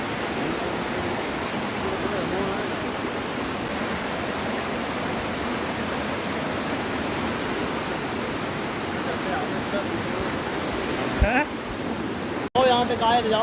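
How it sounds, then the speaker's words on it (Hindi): Gunehar waterfall near Bir Billing in Himachal Pradesh gives a steady, loud broadband rush of falling water that holds even for most of the span, with a short disturbance near the end. "तो बस इस वाटरफॉल की आवाज़ ही आपको सुकून देगी।"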